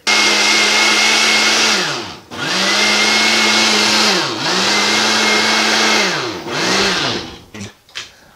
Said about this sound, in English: So then I'm going to go ahead and blend this.